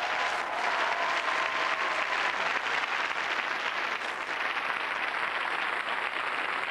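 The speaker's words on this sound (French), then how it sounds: "Le nom d'un homme que j'aimerais que vous applaudissiez ce soir" A television studio audience gives sustained, even applause at a tribute evening for Louis de Funès, a dense continuous clapping that sounds slightly distant and unbroken.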